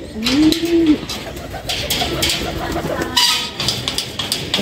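Pigeons coo inside a loft at night, low throaty burbling calls repeating close by over a busy background of rustling and shuffling birds, with no talking.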